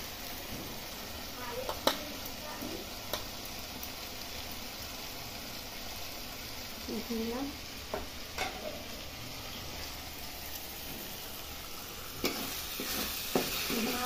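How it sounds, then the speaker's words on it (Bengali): Masala spice paste fries in oil in a home kitchen pan with a soft, steady sizzle and occasional scraping stir strokes, faint and continuous. "মশলাটা হয়ে আসছে। মশলাটার মধ্যে তেলগুলো ছেড়ে ছেড়ে এলে তারপরে আলুটা দিয়ে দেবো।"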